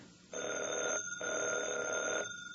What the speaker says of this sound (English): Evans, did that phone ring